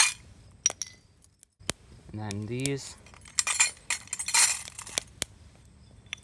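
Small pieces of zinc metal clink and jangle as they are dropped into a crucible before melting in a homemade rocket furnace, a series of sharp metallic taps with a brief voice speaking in between.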